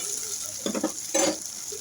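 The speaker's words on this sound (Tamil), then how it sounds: "நல்லா இந்த மாதிரி நல்லா வதக்கி விட்டுக்கோங்க வெங்காயம் நல்லா இந்த மாதிரி வதங்கணும்" Small onions sizzle and crackle in a hot pan for karakulambu, with two short bursts of stirring scrapes breaking through the steady frying hiss.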